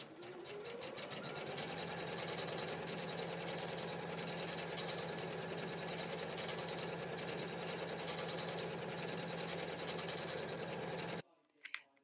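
A Janome embroidery machine stitches a design at a fast, even rhythm, a loud continuous mechanical whir with rapid needle clatter close up, stopping abruptly near the end with a couple of small clicks.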